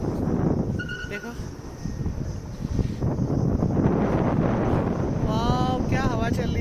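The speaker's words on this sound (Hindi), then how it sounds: "वाह क्या हवा चल रही है।" Hill wind gusts through pine trees near Dalhousie in Himachal Pradesh, a steady close rushing roar buffeting the microphone throughout, with voices briefly heard under it.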